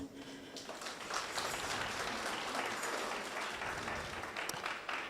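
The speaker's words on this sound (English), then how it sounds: "A round of applause, please." A room full of people gives steady, sustained clapping for the guest of honor at a gender-based violence conference at Kabianga, moderately distant and continuing evenly throughout.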